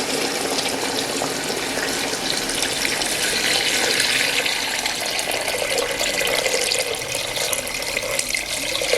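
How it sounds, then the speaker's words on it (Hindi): Water runs steadily into a pot of browned meat for nali nihari, a broad, even wash of pouring liquid that stays loud and unbroken throughout with no voices over it. "तो दोस्तों, जब इसकी भुनाई हो जाएगी तो अब इसके अंदर हम शामिल करेंगे पानी।"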